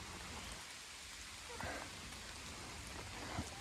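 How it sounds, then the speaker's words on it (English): Rain falling steadily on the leafy tree canopy along the Appalachian Trail, a soft continuous hiss with faint scattered drips, fairly quiet and close. "Starting to get a little bit of rain here, but it's not really coming through."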